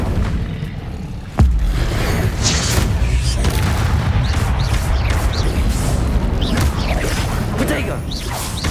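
A fire spell cast in the Hogwarts Legacy video game goes off as a sudden loud burst, then gives way to a sustained roaring, crackling rush that fills the rest of the clip.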